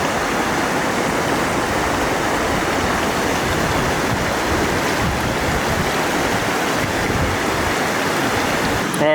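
Water runs steadily through a filter into a container beside a stream in Poudre Canyon, a constant close rushing hiss that fills the whole stretch without a break.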